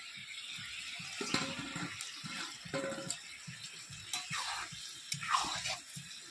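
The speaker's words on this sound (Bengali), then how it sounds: "এবার একটু জল আমি তরকারিতে দিয়ে দিচ্ছি, দেখুন থালার জলটা" Water is poured from a plate into a bottle gourd and prawn curry cooking in a pan, a steady close splashing trickle with small bubbling spurts throughout.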